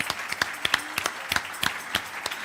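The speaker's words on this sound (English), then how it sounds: "if we could give a warm applause to John" Audience applause for a speaker named John at a Jewish anti-Zionist congress, scattered hand claps rising and falling across the clip, moderately distant and fairly sparse rather than a dense roar.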